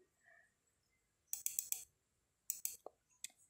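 Sharp computer mouse clicks during AutoCAD multiline editing: a quick cluster of four bright clicks, then two more, followed by a couple of isolated ones, close and crisp in an otherwise quiet room.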